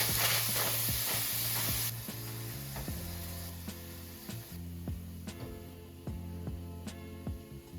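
Beef browning in a pot for one-pot beef stroganoff gives a steady, close sizzle and hiss, with intermittent clicks and scraping taps from stirring.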